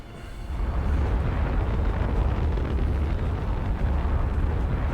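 A rocket explodes in Star Trek Online as a low, sustained roaring rumble that swells in after a brief quiet moment and keeps booming steadily for several seconds.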